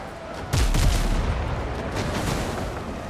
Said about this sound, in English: Why are my cannons not loading?